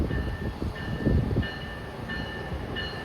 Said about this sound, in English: Train approaching. Please remain behind the yellow line.